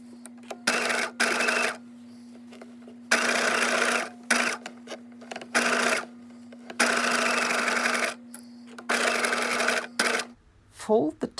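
A sewing machine stitches down the seam allowances on a costume-class rehearsal skirt, running in several loud bursts of rapid stitching separated by short pauses, with a steady motor hum underneath.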